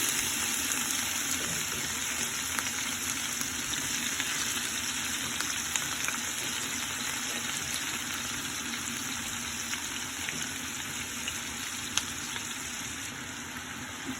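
Onion fries in a pan of hot oil, giving off a steady, even sizzle that hisses continuously at moderate volume with no pauses.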